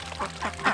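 Ducks on a pond beside kiwi fruit orchards in Waitomo, New Zealand, giving a quick run of several loud, close nasal quacks.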